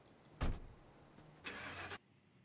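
A car door thumps shut, followed by a brief engine crank and start-up burst that cuts off, all close by with no voices.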